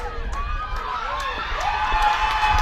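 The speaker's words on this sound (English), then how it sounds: "The countdown is on from the crowd." Crowd at a women's hockey grand final between Clydesdale Western and Western Wildcats, a steady roar of many voices counting down the last seconds, with rhythmic shouted calls rising over continuous broad crowd noise.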